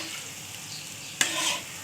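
Cabbage pakoras frying in hot oil, a steady soft sizzle with one sharp scrape of a stirring spoon near the end, close and fairly quiet.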